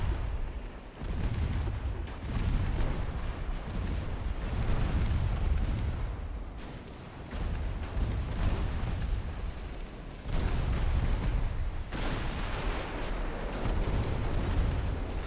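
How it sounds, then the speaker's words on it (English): Heavy explosions and booming naval gunfire from a torpedo hit in the warship game Ultimate Admiral Dreadnoughts, loud continuous rumbling blasts with several sharp onsets, no talk. "Torpedo hit."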